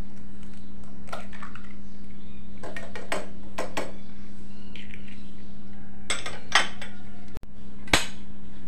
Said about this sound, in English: Break an organic egg into a bowl.